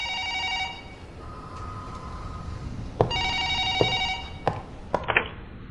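A telephone rings in repeated electronic trills, with pauses between bursts, followed by a few clicks and knocks, moderately loud in a quiet room.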